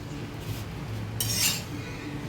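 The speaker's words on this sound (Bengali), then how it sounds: "চামচের সাহায্যে আমি অল্প অল্প করে তেল দিয়ে দেবো।" A metal spoon clinks against a pan while oil is added bit by bit to a browning paratha, with soft scraping and a short bright burst of sizzle near the middle, fairly quiet and close.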